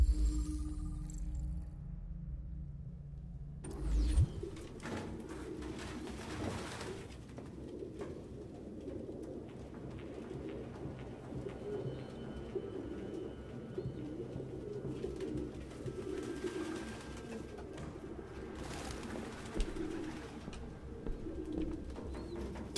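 Pigeons coo repeatedly in an abandoned apartment in the Detroit: Become Human game world, their soft, throaty calls rolling in continuously over a low ambient hum after a brief louder thump near the start.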